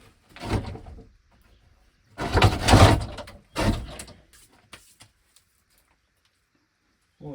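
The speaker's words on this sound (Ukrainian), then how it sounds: "Тут вже і двері відчиняють." A wooden door to a bathhouse is opened, giving several close bursts of creaking and scraping wood separated by short pauses, followed by a few faint knocks.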